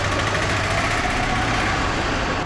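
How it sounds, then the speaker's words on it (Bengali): Vehicle engine, such as a CNG auto-rickshaw or jeep, roars loud and steady inside a tunnel cut through a hill, its droning rumble reverberating continuously without pause or voices. "একটা গাড়ি টাড়ি গেলে, সিএনজি বা ওই যে চাঁদের গাড়ি এগুলো গেলে প্রচণ্ড শব্দ হচ্ছে এর ভিতরে"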